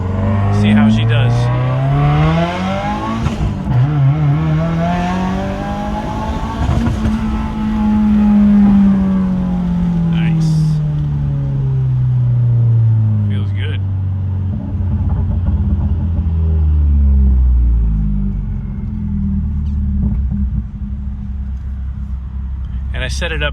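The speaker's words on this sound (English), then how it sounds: "Now we'll do a little acceleration, little test here." Turbocharged project car accelerating hard with loud exhaust, the engine note climbing and falling through gear changes in a steady loud drone, with faint pops and someone talking intermittently over it.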